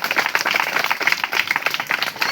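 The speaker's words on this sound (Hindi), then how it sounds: "2 हाथ की ताली बाबा के नाम की सब लोग बजाएं।" A crowd at a gathering claps hands together, dense and continuous rapid clapping close by for a couple of seconds.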